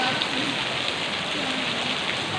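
Heavy rain at Padre Pio church produces a dense, steady hiss of drops pattering on surfaces, close and continuous with no break.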